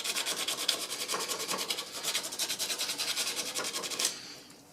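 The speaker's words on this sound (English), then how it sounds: "this file will give it a nice level flat cutting action over the top of that to get those tool marks out of that surface" Metal file scraping over a 1911 pistol to smooth a flat, in quick, even back-and-forth strokes with a rasping texture, close up and fairly quiet, stopping just before the end.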